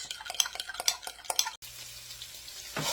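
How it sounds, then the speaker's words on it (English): Sweet sausage sizzles and crackles in a hot pan alongside sharp scraping stirs of a utensil, then a quieter steady sizzle after a short break. "I'm frying up 1 pound of sweet sausage for this."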